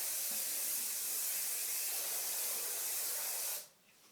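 Hairspray sprays from an aerosol can onto styled hair in a gentleman's classic cut, a close, steady hiss lasting several seconds before cutting off abruptly.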